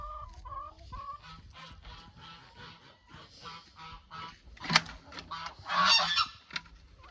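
Geese honk as they and chickens are let out of their coop after rain, with scattered, fairly faint calls building to a louder burst of honking near the end; no one speaks.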